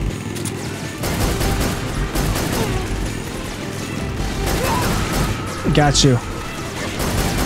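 Gunfire in Metal Gear Solid 3: Snake Eater on PS3 rings out as scattered shots and bursts amid game effects, with a player's voice talking over much of the action.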